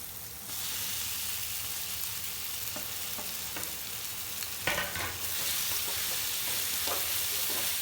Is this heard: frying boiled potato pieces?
yes